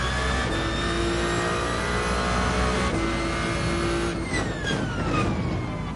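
A Ferrari hypercar in Gran Turismo 7, its engine roaring loud then braking with a quick series of downshift blips and falling revs, close and continuous.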